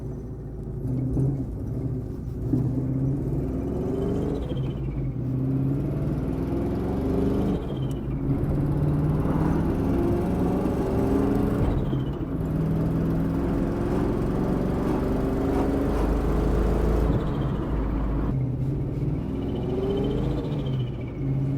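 A Procharged 1996 Mustang GT engine under way, droning and rising in pitch through repeated revs with gear changes, a steady close rumble and supercharger whine filling the cabin, no talking.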